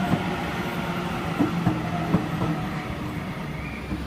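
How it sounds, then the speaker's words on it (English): The Armidale Moree Explorer train pulls away from a station platform with a steady low rumble and rhythmic wheel clicks over the rails, heard close and continuous without voices. "Armidale Moree Explorer now departing platform number 3."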